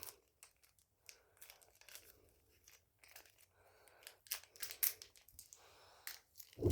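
Close, quiet crinkling and tearing of tape and packaging, a series of short rips and rustles that grows louder near the end.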